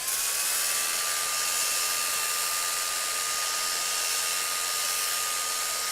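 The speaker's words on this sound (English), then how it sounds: "I like turning the lathe like this so I can keep the wood moving, and then I am trying to rotate the sander as well" A rotary sander works against a spinning wooden bowl on a lathe, producing a steady, loud, continuous whine with a constant pitched hum, close up and unbroken for the whole stretch, with no voices.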